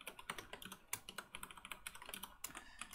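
Code typed on a computer keyboard during a Haskell programming session, a quiet, steady patter of close key clicks in uneven bursts with no talking.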